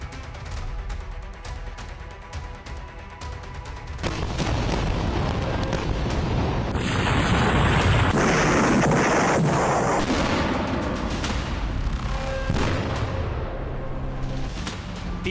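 Explosions and gunfire-like blasts from Israeli air strikes in Beirut, a dense, loud, sustained barrage of booms and cracks with rumbling that swells around the middle and stays heavy throughout, no voices.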